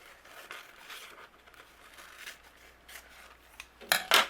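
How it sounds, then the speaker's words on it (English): Quiet snipping and rustling of rice paper cut with scissors, then two louder, sharp crisp cuts near the end. "I'm just going to use my scissors"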